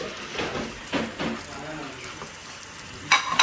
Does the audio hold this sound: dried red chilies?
yes